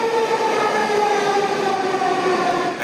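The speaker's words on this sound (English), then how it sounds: "I quickly hopped on a SkyTrain to take me downtown" A Vancouver SkyTrain runs with a loud, steady hum and a high, siren-like whine from its motors, heard from on board with constant rumble and no voices.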